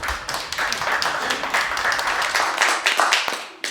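Guests at a wedding ceremony clap together in a brief burst of applause, fairly close and lively, fading out toward the end.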